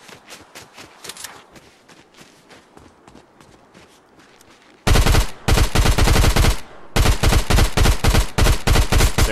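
Pistol gunfire in the video game Fortnite: scattered sharp shots at first, then loud rapid bursts of repeated shots in two long volleys near the end.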